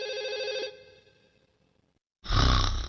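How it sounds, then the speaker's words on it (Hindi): A household telephone in a cartoon rings with a steady electronic trill, stops, and after a short silence a louder burst of ringing returns, close and clear with no talk. "नोबिता, तुम्हारा फोन है।"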